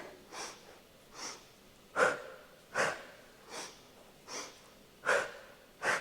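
Rhythmic breathing during a Pilates double stretch exercise, eight sharp nasal and mouth breaths in a paired inhale-exhale pattern, close and fairly loud with quiet gaps between.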